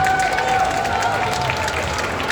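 Audience applause and cheering at a Clash Royale tournament award ceremony, a steady dense wash of clapping that fills the whole moment with no pause.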